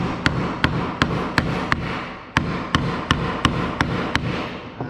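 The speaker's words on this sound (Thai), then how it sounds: "เมื่อได้2ตัวแล้วเราก็ตอกให้จมทั้ง 2 ตัวนะครับ" A hammer drives two nails into a notched wooden corner joint in a steady run of about a dozen sharp, evenly spaced strikes, close and loud, with no speech.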